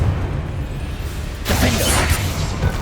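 A Confringo blasting spell goes off in a Hogwarts game, a sudden crackling, shattering burst about halfway through that stays as a bright hiss over a low rumble to the end.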